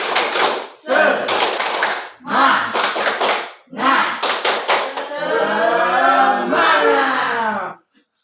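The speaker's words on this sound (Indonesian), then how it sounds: "Tepuk semangat." A classroom of students performs a rhythmic spirit clap in quick patterned bursts of hand claps separated by short pauses, ending with a sustained group shout, loud and close.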